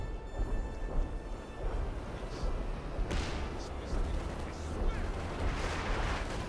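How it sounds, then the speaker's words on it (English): Artillery fire in a Company of Heroes 2 1v1 match between German OKW and Soviet forces, a dense, continuous rumble of distant and nearby explosions with sharper blasts around the midpoint, under a faint voice. "Artillery there from Jove here versus Sarek"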